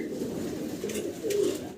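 Pigeons cooing at a pigeon farm, a soft, low murmuring coo that swells near the end of the short stretch, fairly faint and close.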